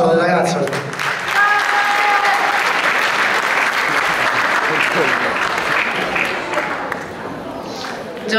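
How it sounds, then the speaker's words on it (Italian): Live audience at a concert in Chiusi breaks into loud, sustained applause with some cheering and voices, holding steady for several seconds before tapering slightly near the end. "Un applauso alle ragazze."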